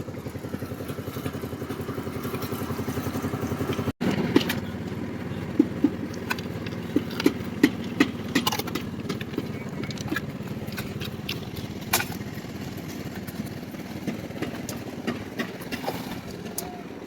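A trolley engine runs during concrete slab casting on a building site, giving a steady, fairly loud low drone with scattered metallic clanks and knocks and one brief cutout early on.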